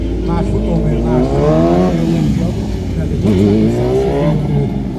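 A tuned, non-stock 1000cc motorcycle engine of about 170 to 180 horsepower revving, loud and near, its pitch climbing and falling in repeated throttle sweeps under steady engine drone.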